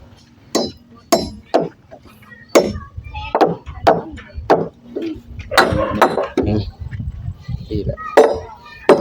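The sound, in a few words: hammering nails in with a hammer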